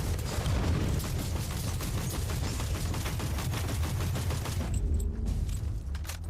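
Radium Carbine firing in Warhammer 40K: Inquisitor - Martyr, a loud, steady stream of rapid automatic shots pounding for about five seconds before cutting off into a brief quieter tail.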